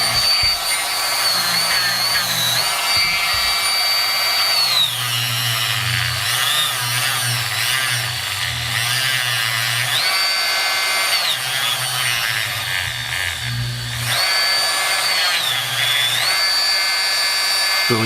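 A handheld power tool whines steadily while polishing a brass ram ring from a FloryPB Angel A4 05 Speed paintball marker, a high pitched motor tone rising and falling in loaded passes, loud and close with no talk.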